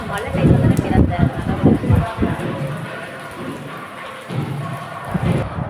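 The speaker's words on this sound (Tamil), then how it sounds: "செம காற்று மழை பயங்கரமாக." Heavy rain and wind lash down in a thunderstorm at Thiruvottur temple, a steady loud wash with rumbling surges beneath a person talking close by.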